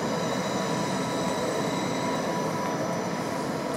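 An S-Bahn train runs through the short Mainz Süd railway tunnel between Bischofsheim and Wiesbaden, a loud, steady enclosed roar of wheels and rails with faint high squeal, no voices.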